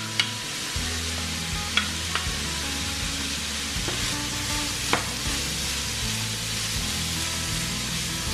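Diced carrot, onion and green pepper fry for keema curry in a continuous close sizzle, with a few light clinks and scrapes of stirring and a low hum underneath, and no talking.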